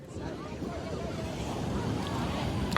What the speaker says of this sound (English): I'm literally looking at the waves right now.